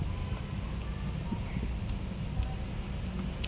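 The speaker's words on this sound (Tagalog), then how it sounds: "Ayan guys, mahangin dito sa labas" Outdoor wind blows faintly but steadily, a soft low rumble buffeting the microphone with no other distinct sounds.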